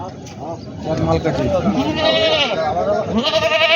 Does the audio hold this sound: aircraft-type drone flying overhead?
no